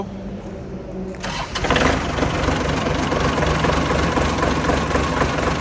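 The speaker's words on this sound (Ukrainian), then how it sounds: "заводимо куботу zl 225" A used Japanese Kubota ZL 225 tractor's engine cranks briefly, catches after about a second, and settles into a loud, steady diesel idle close by.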